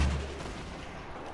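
A single heavy gunshot booms in a shooter video game, a low thump at the start that trails off into a rumbling echo.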